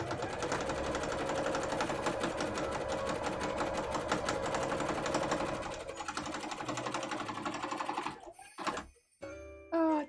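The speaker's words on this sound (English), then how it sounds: "We're right near the end actually of sewing these two bits together" Sewing machine stitching two pieces of cosplay fabric together, a steady fast mechanical whir for about eight seconds before it stops, followed by brief louder handling sounds.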